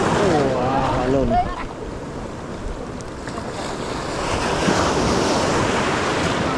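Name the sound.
ocean waves at sea while fishing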